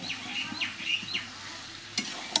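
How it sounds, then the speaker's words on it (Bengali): Jackfruit curry with sour yogurt being stirred in a pan, a few scraping strokes and soft sizzling, with faint bird chirps in the background and a sharp clink near the end. "টক দইটা দিয়ে একটুখানি নাড়বো"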